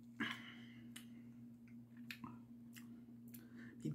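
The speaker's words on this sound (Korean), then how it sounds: "비빔면은 계속 먹어보도록 하겠습니다" Paldo bibim-myeon noodles are chewed close to the mic, with soft wet squishes and slurps coming in several separate bursts over a low steady hum.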